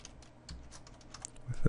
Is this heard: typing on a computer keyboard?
yes